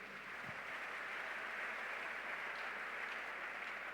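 A church congregation applauding in praise of Jesus during a French-language sermon: steady, dense clapping from many hands, sustained and even throughout, with no voices standing out.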